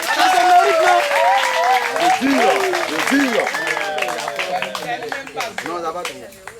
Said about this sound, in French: Applaudissez un peu pour moi.